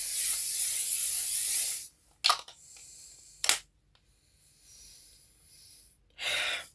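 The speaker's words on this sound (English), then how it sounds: "So I'm going to spray this again" Three short aerosol body spray bursts hiss after a longer opening blast, each a sharp airy spritz separated by quiet pauses, close and fairly loud.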